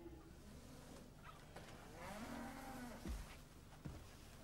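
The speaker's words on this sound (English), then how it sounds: "Evan's helping Dad with the cows." A cow moos with a long, low drawn-out call, fairly close, against quiet outdoor background noise and a few faint knocks.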